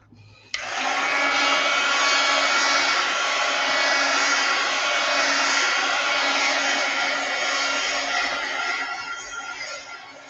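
A dryer blows steadily on paint on a wallpaper and napkin collage mixed media journal cover, starting abruptly and holding a loud, even whir for about ten seconds, close by and alone.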